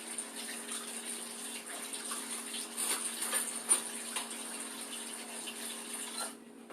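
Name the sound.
water running to fill dishwater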